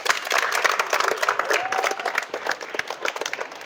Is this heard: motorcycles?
no